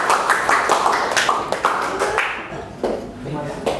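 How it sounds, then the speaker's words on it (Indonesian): A classroom group of students claps for group 1 after its presentation, a brisk patter of hands filling the room with voices talking over it and tapering off toward the end. "beri aplaus dulu untuk kelompok 1 ya"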